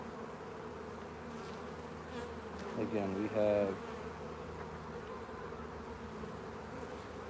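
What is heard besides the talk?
honeybees buzzing in an open hive during inspection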